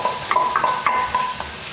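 Chopped capsicum sizzles and fries in a hot pan for rice, with a steady crackle broken by a few quick stirring scrapes.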